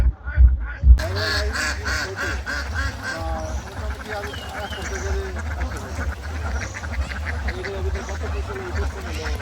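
Ducks on a duck farm quack close by in a busy, overlapping chorus of rapid nasal calls, after a brief thump at the start, with a person speaking intermittently underneath.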